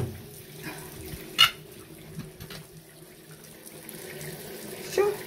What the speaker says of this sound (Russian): Полилась, родимая.